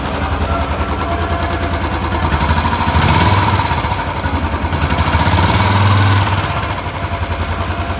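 A Royal Enfield Standard 350 ES motorcycle idles with its old-style exhaust, a steady loud thumping putter that runs continuously up close with slight swells in revving.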